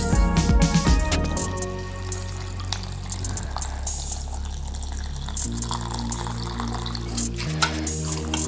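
Flattened rice (poha) is rinsed in water in a bowl, with splashing, pouring and dripping that start busy and settle into a steady trickle.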